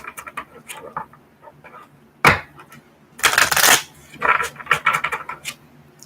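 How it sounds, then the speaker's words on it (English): Tarot cards are shuffled by hand close up, giving a series of quick papery riffling bursts and soft taps, with one sharp slap midway and louder flurries toward the end. "I'm now just shuffling the cards."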